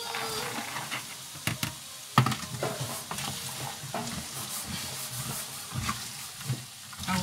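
Carrots and green beans frying in hot groundnut oil in a pan, a steady crackling sizzle with intermittent stirring scrapes and clatters, close and moderately loud with no talking.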